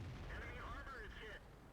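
A tank cannon fires in the World of Tanks game: a loud, deep boom with a rolling low rumble and a whistling tone over it, fading over a second or so.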